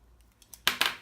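A few soft ticks followed by two crisp snips of scissors cutting paper, close and brief, with no voices.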